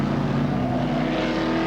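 Touring car engines howl at the Manfeild circuit during a 1983 New Zealand touring car race, a loud, steady mechanical roar from close by with no break.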